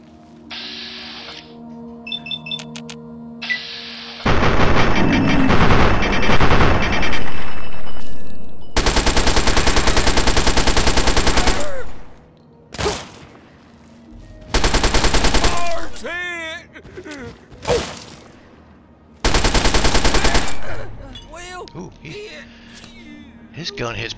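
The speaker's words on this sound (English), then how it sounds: "Gun hits pretty hard. What was he using? Must have been a shotgun." Shotgun blasts and other gunfire in the game Fallout 3, in Point Lookout, come as several loud bursts separated by short gaps, with game sounds in between.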